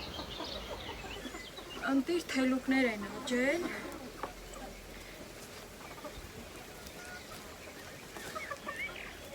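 Backyard hens cluck in a short burst of rising and falling calls, close by and fairly loud, while someone talks over them and softer rustling continues afterward.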